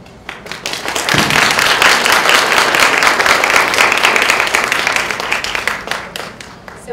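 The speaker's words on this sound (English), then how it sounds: "So we now ask that you all hold your applause until the very end." An audience at the 2020 LSU student government debate breaks into sustained applause, loud and dense for several seconds before tapering off, with a few voices faintly underneath.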